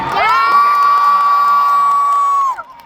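At a Mirror fan meet in Hong Kong, a crowd lets out one loud, sustained high-pitched scream of cheering that holds steady for over two seconds and then breaks off sharply.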